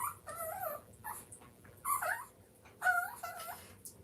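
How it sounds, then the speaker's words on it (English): A dog whimpers and whines in several high, wavering bursts of rising and falling cries, close and fairly loud, with short quiet gaps in between and no talking. "Do you see what my dog is doing?"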